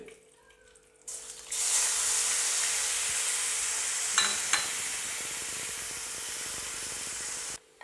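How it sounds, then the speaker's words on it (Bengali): Paneer pieces drop into hot oil after a quiet second, setting off a sudden loud, steady sizzle and hiss that continues near the mic with a couple of small clicks and no talk. "তেল আমার গরম হয়ে এসছে এরপরে দিয়ে দেব পনিরগুলোকে"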